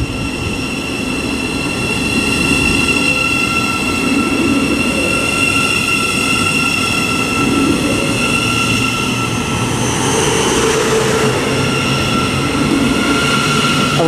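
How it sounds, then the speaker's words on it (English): Thameslink electric train arriving at Harlington station on the Midland Main Line, a loud continuous rumble of wheels and motors with high whining tones and faint brake squeal, heard close from the platform. "arriving is the 12:48 Thameslink service to Brighton"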